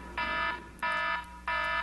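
A loud electronic alarm goes off in three repeated bursts of a steady harmonic tone, each lasting about a third of a second with short gaps between, with no voices present.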